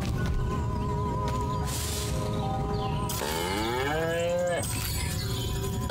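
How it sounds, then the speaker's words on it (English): A cow in the Destroy All Humans! video game lets out long, drawn-out moos, the first steady and the second sliding in pitch, clear and close against faint game ambience. "Again with the moo."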